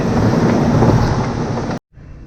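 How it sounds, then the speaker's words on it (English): Heavy rain roars as dense, continuous broadband noise close to the microphone, then cuts off abruptly near the end, leaving only faint background sound. "rain's finally dying down, soaking wet"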